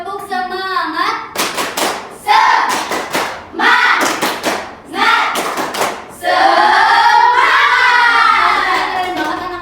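Students in a classroom teaching simulation do a rhythmic spirited clapping chant: bursts of loud, tightly grouped handclaps alternate with the group chanting in unison.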